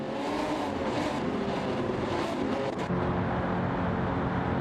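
GT500 race cars pulling away at the start of a 32-lap race in a racing video game, a steady, dense engine roar that holds throughout without voices.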